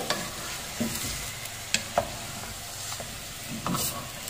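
Pork sinigang ingredients, bone-in pork among them, stirred in a pot, with scattered scraping clunks and soft bubbling under a steady low simmer; no voices.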